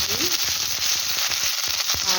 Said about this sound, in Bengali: এবার আলু ফ্রাই করব